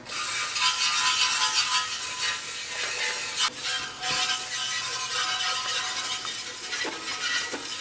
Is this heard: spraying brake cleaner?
yes